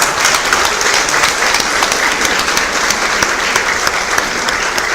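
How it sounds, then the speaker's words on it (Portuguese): A packed audience at a public urban mobility plenary meeting in Jardim Zaíra gives a loud, sustained round of applause. The clapping is dense and even for the whole stretch, with no break. "eu só queria que o pessoal desse uma salva de palmas para a Soninha"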